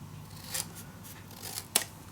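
Scissors snip the corners off a piece of card for a desk storage box: two crisp, close cuts over a faint rustling background, with no voices.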